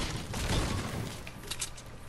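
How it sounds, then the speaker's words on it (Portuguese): A burst of gunfire in Fortnite, with rapid cracking shots running together at moderate volume, followed by a few scattered pops. "Ouvi tiros."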